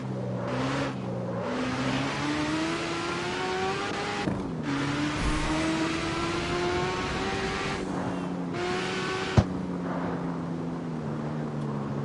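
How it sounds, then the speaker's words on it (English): A car engine in the Car X Street racing video game, said to sound like an RX-7, revving and climbing through gears with rising tones and brief drops at shifts, steady and fairly close. "This car sounds like an RX-7"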